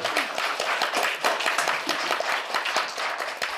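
Dense clapping at a party anniversary press gathering for the party leader, a busy, fairly even patter of many hands sustained throughout with no voices above it.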